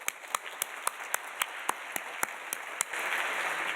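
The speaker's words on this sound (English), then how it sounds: "So please give yourself a round of applause" Scattered applause at a faculty and staff recognition celebration, a dozen or so sharp individual claps ringing out in a loose rhythm before a denser burst of clapping swells near the end.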